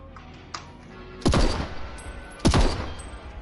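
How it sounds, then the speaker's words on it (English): Two loud, sharp gunshot bursts ring out in the Deathloop video game, roughly a second apart, each decaying quickly over a low in-game background with no talk. "I'm fucking shooting red versus blue in here"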